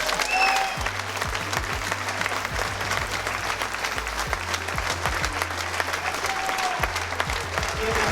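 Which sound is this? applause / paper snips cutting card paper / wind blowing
applause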